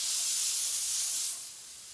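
An airbrush spraying paint during a Slimer practice piece, a close, steady high hiss that drops slightly in level near the end, with no talking.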